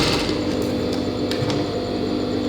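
A sewing machine runs steadily, stitching a second piece of cloth onto a gathered pant, with a continuous close mechanical whir and a few light clicks.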